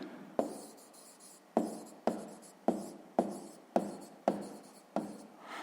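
Handwriting on paper during a 6th-grade maths exercise: a series of about eight short, close scratching strokes, each starting sharply and fading, spaced roughly half a second apart, with no talking.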